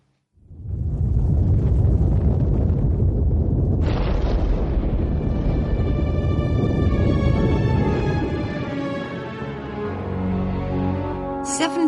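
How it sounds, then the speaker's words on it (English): Mount Vesuvius erupts over Pompeii in a long, deep, roaring rumble that swells suddenly, joined by a rising whoosh and sustained tonal drones. It stays loud and continuous for nearly the whole stretch. "Vesuvius erupts, burying the Roman town of Pompeii"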